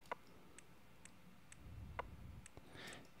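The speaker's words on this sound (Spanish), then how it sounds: "Ustedes están escuchando el clic a través de los audífonos." Ableton Live's metronome clicks through headphones held next to a microphone, sounding as faint, evenly spaced ticks about every half second, with a soft accent on some beats and light background noise.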